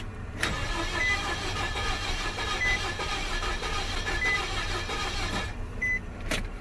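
2007 Nissan Frontier that has been sitting with a suspected fuel problem, cranking repeatedly without starting, a steady rhythmic whirring churn that runs for several seconds, close and loud.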